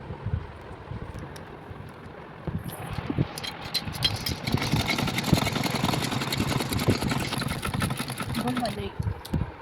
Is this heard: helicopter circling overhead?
no